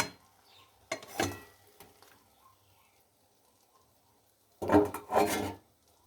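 Pointed gourd pieces dropped into a pan with poppy seed paste and turmeric, giving two short bursts of rough sizzling and scraping, one near the start and a louder one toward the end, separated by near quiet.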